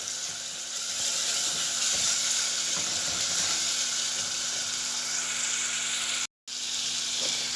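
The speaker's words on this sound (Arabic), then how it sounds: "نزلت بالطماطمية على البصلة المبشورة وهقلب لغاية لما تدبل" Tomato paste and grated onion sizzle in a pan in a loud, continuous hiss, with faint stirring scrapes underneath and a brief cut to silence near the end, no one speaking.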